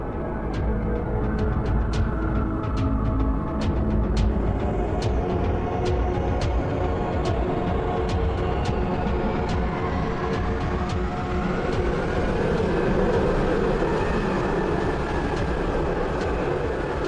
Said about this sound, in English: This astonishing machine is powered by 8 huge jet engines, travels at 300 miles per hour, only a few feet above the ocean,